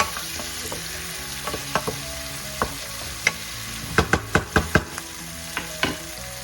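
Chicken and vegetables sauté in a pan for Filipino chicken afritada, a continuous close sizzle broken by a run of sharp utensil clanks and stirring knocks near the middle, with no talking.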